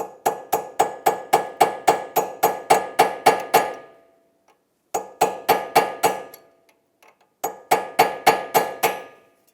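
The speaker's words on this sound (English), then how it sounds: "You can easily do that with a chisel or a punch and a hammer." A hammer tapping a punch to stake the axle nut on a 2003-2008 Toyota Matrix steering knuckle, in three close, rapid bursts of sharp metallic strikes separated by short pauses.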